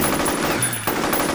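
Rapid automatic gunfire in the video game F.E.A.R. Extraction Point, a dense, loud burst of shots that fills the whole short moment with no talk over it.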